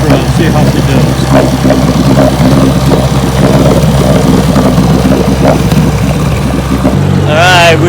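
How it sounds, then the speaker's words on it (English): A 1969 18 HP Evinrude outboard motor runs on a boat on a bayou on a cold winter morning, a loud, steady engine drone that holds throughout, with a brief voice near the end. "Got the motor warmed up here"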